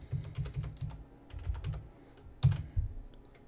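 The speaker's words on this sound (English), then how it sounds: "Let me try and type my password in here." Typing a password on a computer keyboard: quiet, close key clicks in short irregular runs, with pauses between bursts and one firmer press near the end.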